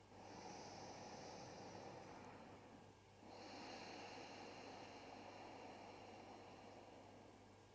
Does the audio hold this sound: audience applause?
no